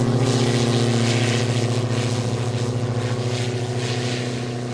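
A propeller UAV on its first flight test drones loudly and close by, a steady buzzing engine hum with a strong pulsing tone that holds throughout.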